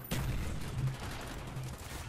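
Shotgun blasts in the shooter Call of Duty: Black Ops 1 on PC, a sharp boom at the start followed by muffled, rumbling battlefield gunfire at moderate distance.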